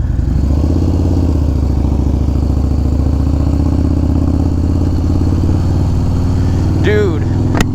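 A 2021 Harley-Davidson Street Bob 114 being ridden in near-freezing weather, with a loud, steady, low engine rumble and wind roar throughout while a rider talks over it; a brief higher whine appears near the end.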